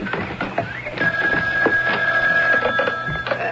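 An old-style telephone bell rings in a radio mystery drama, a steady electric ring running through most of the moment, fairly close and clear against a busy background.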